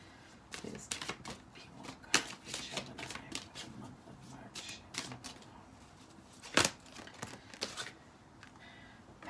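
A deck of cards is shuffled in repeated quick riffling bursts, crisp and close, with short pauses between.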